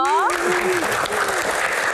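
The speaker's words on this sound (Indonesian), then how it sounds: "Kita berikan tepuk tangan yang paling meriah untuk Mbak Suciwo Tejo" A TV talk show studio audience applauds a panelist, a broad wash of clapping rising right after a brief voice and continuing loudly to the end.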